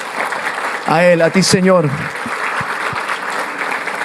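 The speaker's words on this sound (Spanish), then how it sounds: "Damos un aplauso a Jesús, ¿les parece?" A church congregation claps and cheers through the whole stretch, a steady wash of applause while a preacher's voice calls out over it in the middle, then the clapping carries on alone, fairly loud.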